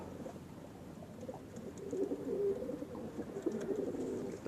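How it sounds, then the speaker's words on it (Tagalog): Racing pigeon cooing softly in low, throaty murmurs, repeated and faint against a quiet background, swelling slightly louder midway. "Ito po ang aking bagong kalapate."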